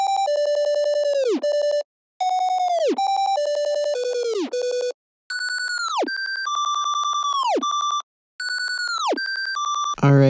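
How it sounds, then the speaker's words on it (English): A second FL Studio synth lead run through Gross Beat plays loud, bright notes that swoop sharply downward in pitch, chopped by brief gaps of silence into a stuttering rhythmic pattern, with no talking. "I made a second lead melody, and once again I used gross beat to make it sound like this"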